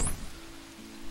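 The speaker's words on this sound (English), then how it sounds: "It's starting to rain out here." Rain in the video game Lego The Hobbit, a brief soft hiss of falling drops with a low steady hum beneath, fairly quiet and without talk.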